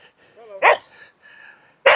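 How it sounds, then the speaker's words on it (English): Bella, a dog on an estate track in Glen Affric, gives a few sharp nearby barks and huffs, with short quiet gaps between the bursts. "there's Tony's dog Bella, who obviously isn't sure either who I am or what I'm doing"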